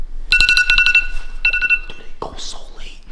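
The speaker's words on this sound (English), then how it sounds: "the timer has officially expired." A timer alarm goes off loudly indoors, two bursts of rapid, bright electronic beeps close by, followed by a person's voice.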